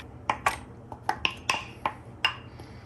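A fork taps and clinks against a bowl while whisking eggs, about nine quick, irregular metallic clicks over a couple of seconds, close and fairly light.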